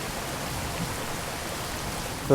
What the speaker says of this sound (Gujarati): જો તમે જોઈ શકો છો વરસાદ કેવો પડે છે.